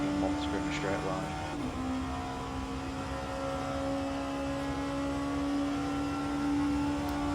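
A race car engine in a racing video game set at a 24-hour Le Mans event, droning at a steady, sustained pitch for the whole stretch, loud and close, with no breaks or obvious gear changes.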